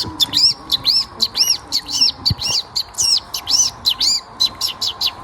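A man mimics a prinia's call with a rapid run of high, sharp chirps repeated in a fast, bouncy rhythm, close and distinct over a faint background hum.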